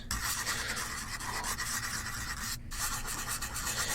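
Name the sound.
sanding carved wood smooth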